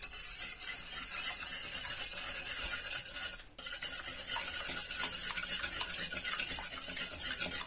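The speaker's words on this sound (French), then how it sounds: "Donc on bat le tout." Eggs are beaten in a bowl for chocolate cake batter, a steady, rapid scraping and stirring that runs close and continuous, with one brief pause midway.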